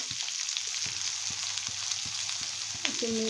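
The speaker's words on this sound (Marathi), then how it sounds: "त्याच्यामध्ये आता मी कांदा टाकून घेते आता मस्त मी असं हलवून घेत आहे" Onion and green chili frying in a pan for chicken chilli, a steady bright sizzle with rhythmic scraping taps of stirring, close; a voice speaks briefly near the end.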